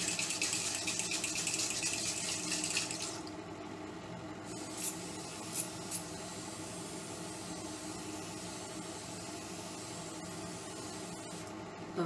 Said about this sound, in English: Water Spray.